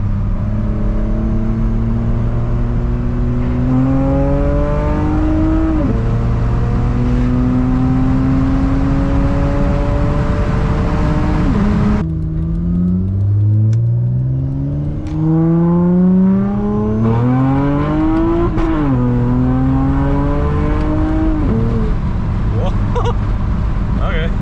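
An Acura TL accelerates hard, and its engine note climbs and drops sharply at each firm gear change; loud, close in-car sound, with a voice talking over it at times.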